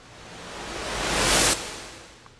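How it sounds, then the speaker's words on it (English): A hip hop beat's noise riser, drenched in reverb, swells steadily louder like rushing white noise, peaks, then cuts off abruptly and leaves a short reverberant tail. "So with this rise, I put reverb on it"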